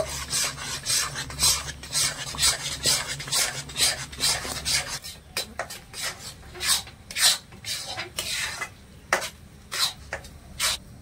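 A hand stirs and mixes rice flour into hot water in a pot for a sweet rice dough, with steady, close scraping and rubbing strokes repeating in a loose rhythm and no talk.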